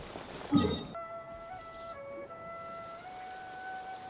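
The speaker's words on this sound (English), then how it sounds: "It's raining." Steady rain falls in the Genshin Impact video game, a soft continuous hiss running through the whole stretch, with a brief louder burst near the start and faint musical tones layered above.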